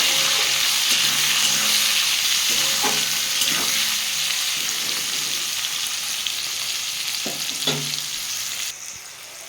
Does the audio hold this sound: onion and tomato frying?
yes